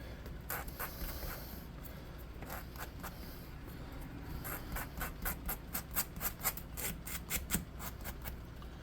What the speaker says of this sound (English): let's get a sanding block